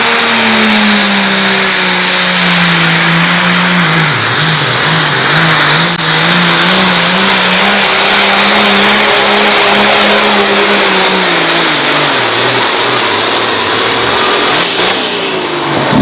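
A Ford 9000 tractor roars at full throttle during a fair tractor pull, a loud, steady engine drone that holds its pitch with slight dips and rises over about sixteen seconds.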